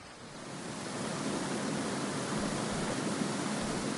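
Waterfall in the farming-sim game Graveyard Keeper, a steady broadband rush of falling water that swells slightly after the first second and then holds constant, with no talk over it.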